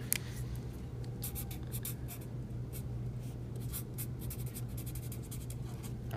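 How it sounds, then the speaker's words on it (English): A pencil or pen scratches out a name on thick watercolor paper, a soft continuous scraping with quick strokes over a steady low hum, close and faint. "of course you're going to write your name"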